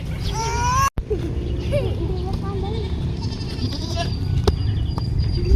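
Goats bleat repeatedly in a rural outdoor setting where a kite is being flown, their wavering cries close and loud over steady wind noise, with a sharp knock or thump near the start and people talking in the background.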